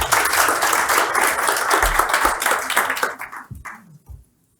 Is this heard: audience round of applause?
yes